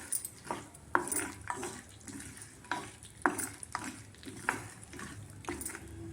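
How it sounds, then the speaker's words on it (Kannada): Peanuts fry in hot oil in a pan, with a steady sizzle under repeated scraping strokes of a spoon stirring them, close and fairly loud. "ಮೊದಲಿಗೆ ಇದು ಕಡಲೆಕಾಯಿ ಬೀಜ ಹಾಕ್ತೀನಿ. ಇದು ಮೊದಲಿಗೆ ಚೆನ್ನಾಗಿ ಫ್ರೈ ಆಗಲಿ."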